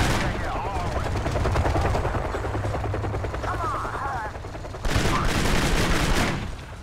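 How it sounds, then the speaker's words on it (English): Gunfire coming from behind the player in the video game Kane & Lynch: Dead Men, a steady, loud stream of shots over a low rumble, with a fresh burst swelling near the end. "We're getting shot from behind, that makes sense"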